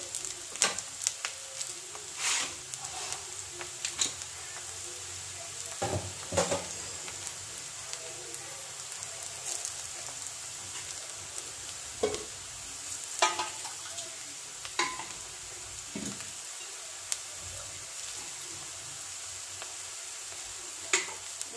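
Onions frying in oil in a pan until reddish-brown, a soft, fairly quiet sizzle with occasional sharp stirring clicks and scrapes.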